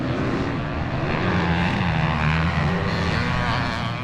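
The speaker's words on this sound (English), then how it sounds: "Look at the power of that 500 up the hill." A 500cc Yamaha two-stroke motorcycle races up a hill, its engine a loud, sustained high-revving drone with rising and falling pitch over the whole stretch.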